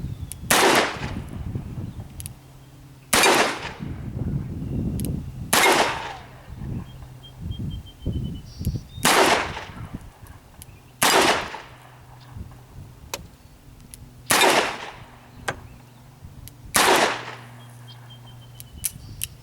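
Smith & Wesson 686 Plus .357 Magnum revolver fired double action outdoors at steel plates and targets: seven loud, sharp shots spaced roughly two seconds apart, each with a ringing tail and echo, over faint background rustle.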